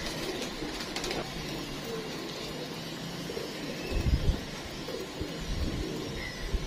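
Golden Imamdeen pigeons coo softly in a loft, low throaty murmurs that come in a few short bursts over faint background noise and distant bird sounds.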